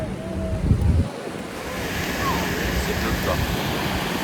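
Surf rolling onto Kata Beach in Thailand, a steady broadband wash of waves with wind noise across the microphone, starting behind a brief burst of talk or movement, then continuing as an even, close roar.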